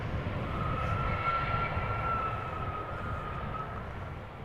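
An airliner lands at Amsterdam Schiphol and steers left off the runway with its nose gear down, a steady engine roar with a thin whine over it, slowly easing off.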